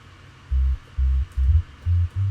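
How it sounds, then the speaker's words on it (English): A lo-fi hip hop bass line, EQ'd to sound like a bass guitar, plays five short, deep, muffled notes in a loose rhythm, quiet and alone over faint background hiss. "a cool lo-fi sound for the bass, and it's simply EQ"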